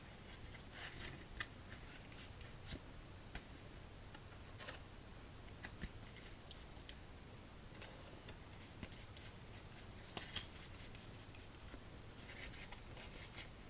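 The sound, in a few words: shuffling a deck of playing cards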